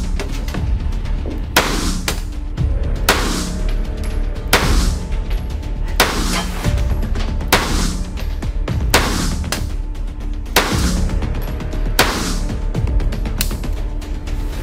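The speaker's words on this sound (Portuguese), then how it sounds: "Efetuar 10 disparos no alvo amarelo." A steady series of loud, sharp gunshots at a shooting range, roughly one every second or so, each ringing out with a short echo against constant background noise.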